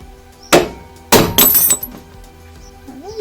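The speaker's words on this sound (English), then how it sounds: "you want to get a hammer and give it a good whack" Two sharp metallic hammer strikes on a ball joint splitter ring out close by during BMW E30 lower control arm removal, a single blow followed half a second later by a heavier one with a short clattering tail.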